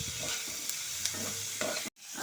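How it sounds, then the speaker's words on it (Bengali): Jackfruit with onion, garlic, salt and turmeric fries and is stirred in a pan. A steady close sizzle carries a few scraping stirs and cuts off abruptly near the end. "লবণ হলুদের সাথে ইঁচড়টা, পেঁয়াজ রসুন ভালো মতো করে একটু ভাজা ভাজা করে নিচ্ছি।"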